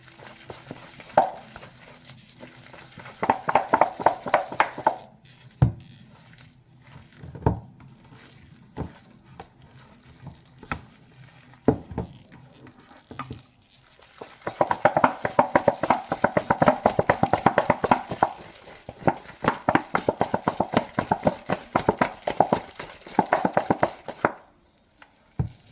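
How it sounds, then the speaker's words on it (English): A hand whisk beats low-carb cake batter in a bowl, rapid rhythmic tapping and scraping in bursts separated by pauses with a few louder knocks against the bowl, close and alone. "we're just going to use the whisk"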